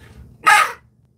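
A hunter's crow call device gives one short, loud, harsh caw in imitation of a crow, standing alone against a quiet outdoor background.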